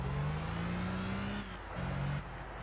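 Honda NSX Type R engine in Gran Turismo 6 during a cone slalom, a steady, loud, close revving drone that briefly drops off twice, like lifts or shifts, before picking back up.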